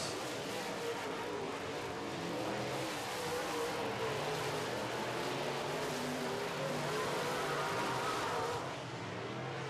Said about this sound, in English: Your Miller Genuine Draft Modifieds on their last lap.